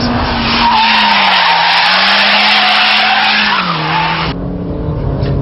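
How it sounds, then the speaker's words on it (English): A front-wheel-drive car thrown sideways in a Scandinavian flick skids with a loud, sustained tire squeal over a steady engine note, the screech wavering in pitch before cutting off abruptly near the end. "the whole point of the Scandinavian flick is to unsettle the car, deliberately throw the weight to send it sideways"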